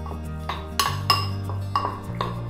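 A utensil clinks and scrapes against a bowl while prawns are mixed with turmeric, salt, chili powder and ginger-garlic paste, giving a few close, sharp metallic taps over a low steady hum.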